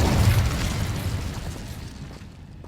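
Incendio fire spell from Hogwarts Legacy, the video game, bursting out as a loud, booming blast of magical fire that fades into a rumbling tail.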